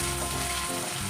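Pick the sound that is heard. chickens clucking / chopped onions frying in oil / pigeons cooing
chopped onions frying in oil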